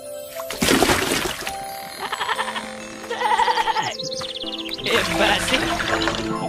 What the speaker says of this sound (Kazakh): Ей, үнің өшкір теке, бақыра берме, шыдамсыз неме.